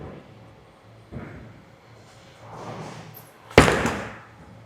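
A reactive bowling ball, the Radical Guru Oracle Pearl, rolls down a freshly oiled house-shot lane, and a single loud crash of pins follows near the end, preceded by a faint low rumble of the roll.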